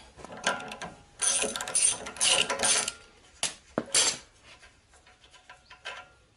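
Metallic clicking and ratcheting from a wrench removing the nut on a car's front suspension upper arm axle, near and fairly loud in uneven bursts with short pauses, no talking.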